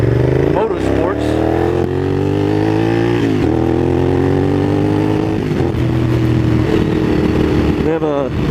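A Honda Superhawk motorcycle engine drones loud and close while riding, its pitch rising through several gear pulls with brief dips at shifts, under wind buffeting, while a person talks over it.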